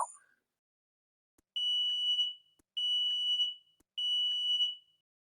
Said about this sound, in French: Test des détecteurs de température et de fumée.